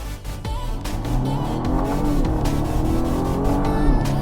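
A BMW 1 Series, an M140i, pulls away hard under acceleration, its engine note rising steadily and loud from inside the car, with a few sharp clicks or knocks over the continuous drone; no speech.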